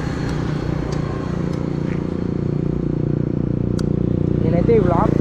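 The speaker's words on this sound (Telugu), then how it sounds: "సో బైక్ అయితే స్టార్ట్ చేద్దాం." A Benelli 302R motorcycle engine runs with a low, steady drone close by, with a person talking over it throughout.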